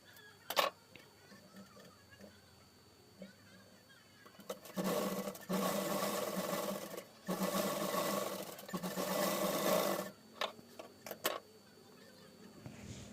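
Sewing machine stitching an elastic joint on a frock, faint and close, with several short whirring runs of stitching separated by pauses and small clicks.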